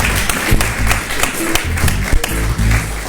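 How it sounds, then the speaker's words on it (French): An audience applauds at a live event, a dense spread of clapping that continues throughout the short stretch, fairly close and loud. "On l'applaudit très très fort encore."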